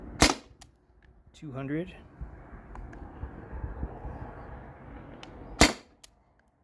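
A modified T4E TR68 marker fires steel ball shots with CO2, giving two sharp, loud cracks several seconds apart. Someone speaks briefly in between, and there is a faint low hum.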